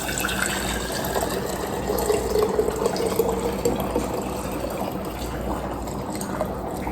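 Strained homemade bone broth poured into a jar, a soft continuous liquid trickle and gurgle at close range, fairly faint and steady with light handling clinks.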